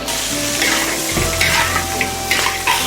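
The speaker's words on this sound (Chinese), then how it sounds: "现在加入苦瓜儿，把苦瓜儿一起炒才更入味" Bitter melon stir-fried in a wok with oyster sauce and soy sauces for a Sichuan-style steamed fish dish, giving a steady close sizzle with scraping stirs and a few louder tosses, no talk.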